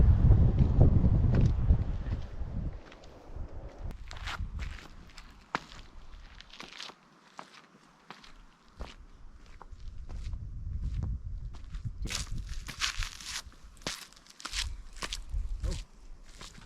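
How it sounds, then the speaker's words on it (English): Steady crunching footsteps on a trail at World's End in Sri Lanka's highlands, with a light breeze rustling and buffeting the microphone in a calm, open setting. "Just a light breath of wind and the sound of our footsteps."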